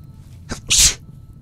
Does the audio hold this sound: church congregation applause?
no